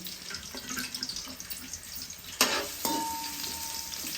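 Chopped onions and green chillies fry in oil in a pan at home, giving a quiet steady sizzle with a few stirring clicks and a sharper burst of hissing midway.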